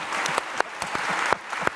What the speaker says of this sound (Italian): Un grande applauso a Luisa Merloni.